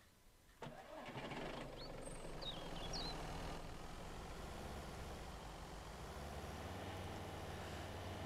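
A vehicle engine in the survival game Mist Survival starts with a sudden jolt, then settles into a steady, loud, continuous running drone with a few faint birdlike chirps early on.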